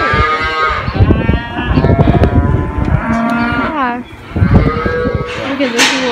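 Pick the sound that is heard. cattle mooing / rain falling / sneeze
cattle mooing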